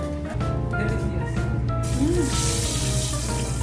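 Boiled eggs being deep-fried in oil at a Bangladeshi workers' kitchen. A loud, broad sizzling hiss swells in partway through over a steady low electrical hum and faint tonal background.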